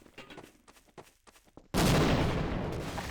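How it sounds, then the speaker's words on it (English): A grenade explodes in the Half-Life video game: light clicks and taps, then a sudden loud, broad blast that rumbles and decays slowly over the final second and a half. "oh, that's a grenade."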